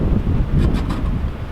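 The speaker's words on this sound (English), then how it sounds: "Today's a really windy day" Strong wind buffets the microphone outdoors in a steady low roar with gusty swells, loud and continuous, with no one speaking.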